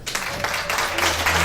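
Applause from a live show audience, a brief dense burst of clapping that fills the moment without any talking.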